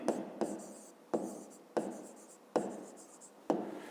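A pen writing numbers by hand in a fifth-grade maths exercise, six sharp strokes starting at regular intervals, each fading into a scratchy trail, close and quiet.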